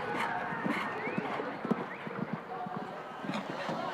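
A show-jumping horse's hooves clip-clop in an irregular run of soft thuds at a CSI4* Grand Prix over 1.55 m fences in Andalucia, with a faint murmur of voices in the background.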